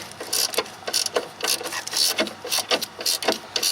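A spring pressure tool is tightened on the door hinge spring of a 1993–2002 Firebird or Camaro, producing a string of quick ratcheting clicks in short, even bursts, close-up, with no talking.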